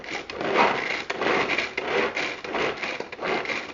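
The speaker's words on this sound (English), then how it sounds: "as we pull the string, every pull gives us 27 chops" A hand-pulled string chopper slices vegetables for salsa, its blades whirring in repeated rasping bursts, about six quick pulls close up in under four seconds, with no voice.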